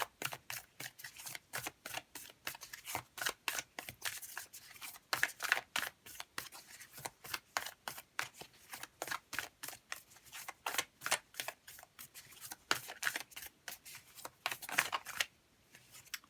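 Sacred Destiny Oracle cards are shuffled by hand in a tarot reading, a quiet, close run of rapid papery riffles and flicks repeating in an uneven rhythm, with no talking.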